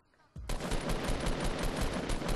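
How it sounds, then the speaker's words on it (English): Rapid automatic gunfire in Fortnite Battle Royale breaks out after a quiet moment and then rattles on as a loud, sustained burst of closely spaced shots. "Who's firing at me, dude?"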